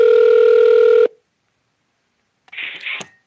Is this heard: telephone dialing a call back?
yes